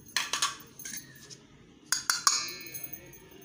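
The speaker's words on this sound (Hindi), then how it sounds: "तो हम मिक्स कर लेंगे।" A metal spoon clinks against a bowl while stirring chicken tikka marinade of spice powders, chaat masala, lemon juice and ginger-garlic paste, giving a few sharp, close taps in two short bursts separated by a quiet pause.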